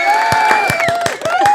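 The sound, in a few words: studio audience applause and cheering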